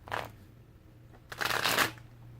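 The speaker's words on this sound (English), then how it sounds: "Get one more shuffle and get it cracking." Tarot cards riffle twice close by: a short quick shuffle, then a longer fuller one after a pause, with a low hum underneath.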